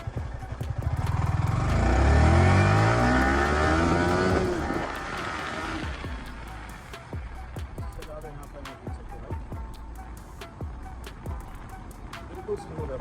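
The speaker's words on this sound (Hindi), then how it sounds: "तो अभी मैं एक बार और आपको थोड़ा खींच के दिखाऊंगा बाइक को" A Yamaha R15 v3 motorcycle, BS6 version, revs up hard on a road, its engine note rising to a loud peak and then easing into a steadier hum with ticking and clicks.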